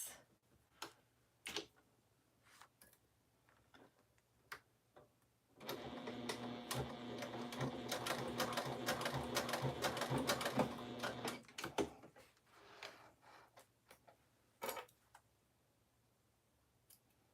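A domestic sewing machine basting fabric for a bag runs in one steady, quiet burst of about six seconds, with scattered light clicks and handling noises before and after.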